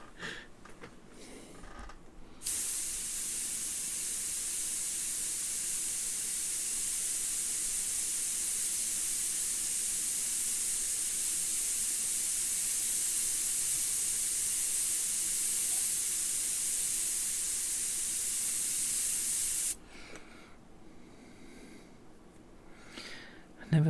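Airbrush spraying a steady, loud hiss for about seventeen seconds, starting and stopping abruptly, with quieter room sound before and after.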